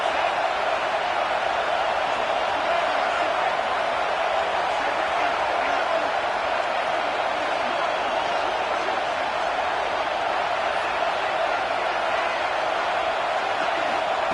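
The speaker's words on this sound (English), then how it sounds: "This crowd trying to make life miserable for this offense." Roar of a football stadium crowd at an OU vs Bama game, a dense, loud, unbroken wash of cheering noise lasting the whole time with no distinct voices standing out.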